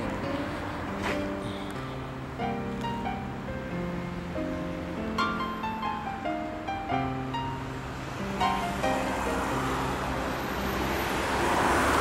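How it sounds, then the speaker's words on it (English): A city bus approaching along a Frankfurt street, a low engine rumble and road noise building gradually under music-like tonal sounds, growing louder near the end. "And the bus is coming now."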